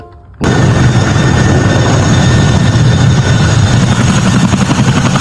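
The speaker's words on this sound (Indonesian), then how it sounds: "Pesawat helikopter militer." A toy military helicopter starts up suddenly and keeps whirring loudly and steadily, with a dense, continuous rotor-and-engine roar close to the microphone and no talk over it.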